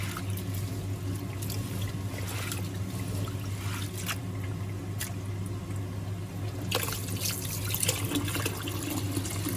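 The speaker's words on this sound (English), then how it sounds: "And then run fresh water over the top and let the water run clear" Fresh tap water running over brown lentils (sabat masar dal) being rinsed in a bowl, a continuous trickling splash with a few brighter splashy bursts, close and steady, over a low background hum.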